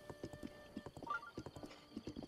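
Horse hooves clip-clop at a steady walking rhythm in the video game The Legend of Zelda: Breath of the Wild, with a brief whinny midway, fairly quiet and with no talk over it.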